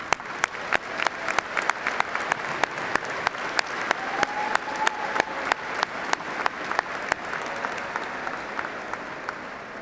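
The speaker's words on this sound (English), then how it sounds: "Let's give them a big round of applause" Steady, sustained applause from a large audience at a university commencement, an even wash of clapping with sharper individual claps standing out throughout.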